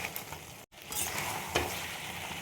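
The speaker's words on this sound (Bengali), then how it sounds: "দেখো অনেকটাই জল বেরিয়ে গেছে চিকেনটা দিয়ে। এইভাবে আর কিছুক্ষণ কষিয়ে নেব।" Chicken sautéing in a pan, a soft continuous sizzle with occasional stirring scrapes, heard close and fairly quiet with no talking.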